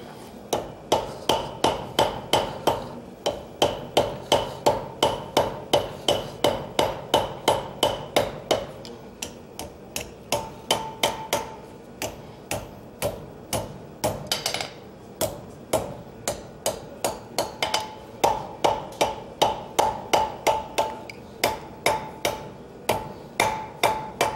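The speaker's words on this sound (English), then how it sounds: "I'm going to weld this together at that point where I brought it back to itself" Steady hammer blows ring on an anvil as a blacksmith forge-welds a piece of steel folded back onto itself, the rapid rhythmic strikes continuing for the whole stretch with brief pauses between bursts.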